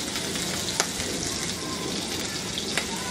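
Grated ginger and dried red chillies frying in a pan for a spicy snack, a steady close sizzle throughout with a couple of brief clinks of stirring.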